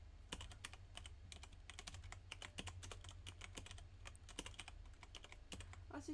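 Fingers tap a computer keyboard in quick, uneven bursts of sharp clicks, close and fairly quiet, with no voice over them.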